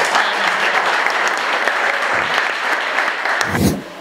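Steady applause from a crowd at a council session, dense clapping throughout, with a brief low thump near the end.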